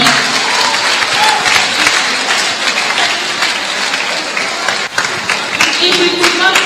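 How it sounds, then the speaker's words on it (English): A teen audience at a church Vacation Bible School talk gives a round of applause, a dense, loud wash of clapping that holds steady for several seconds, with some crowd voices mixed in. "Please give him a round of applause."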